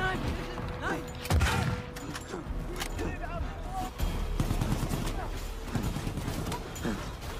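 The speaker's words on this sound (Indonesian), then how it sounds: "senapan mesin langsung meletuskan ratusan tembakan" Dense, continuous rattling machine-gun fire from a World War I battle scene, with rapid bursts, mixed with shouting and battle noise throughout.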